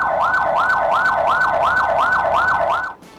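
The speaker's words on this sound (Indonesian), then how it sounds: "Sirene ini dinyalakan nyaring dan terus-menerus disertai lampu rotator yang menyala terang." An Indonesian ambulance siren wails in a fast, repeating rising-and-falling yelp, loud and close, about eight cycles before it cuts off abruptly.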